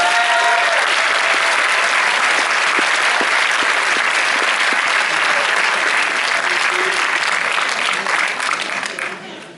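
An audience applauds at a film premiere presentation, a loud, dense wash of clapping from a large crowd that holds steady and then starts to fade near the end.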